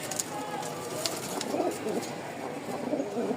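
A pair of Bombay pigeons cooing inside a cage, soft low repeated coos over a steady background hum.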